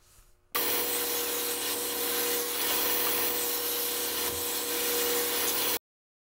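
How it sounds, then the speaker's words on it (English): A table saw rips 1/8 inch plywood into strips with a loud, steady whining cut lasting about five seconds, close by, then falls abruptly silent. "at the table saw, I cut my 1/8 inch plywood into strips"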